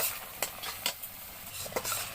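Spices with chili powder for chicken curry being stirred in a pan, a faint sizzle under a string of quick, irregular spatula scrapes against the metal.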